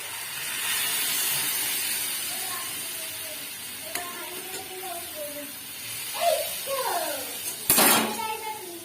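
Mutton stew poured into a hot pan while a mutton curry cooks, giving a steady steamy hiss and sizzle close by, with short clatters and a voice talking over it.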